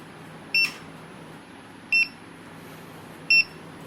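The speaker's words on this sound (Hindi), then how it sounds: "12-14 सेकंड के अंदर अगर गेट ओपन होकर क्लोज नहीं हुआ तो ट्विटर बीप साउंड करता रहेगा।" A door-open indicator buzzer on a gate gives three short, sharp electronic beeps, evenly spaced about a second and a half apart, over faint background hiss.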